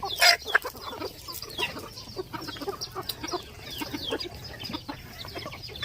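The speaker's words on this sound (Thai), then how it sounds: "อันนี้จะเป็นไก่ต่อสีเบี้ยอ่า" A wheat-coloured Thai decoy rooster clucks up close in short, irregular bursts, with a louder call at the start and scattered lighter clucks after.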